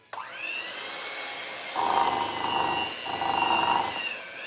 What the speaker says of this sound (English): I've never used this mixer, so hopefully everything's good with it.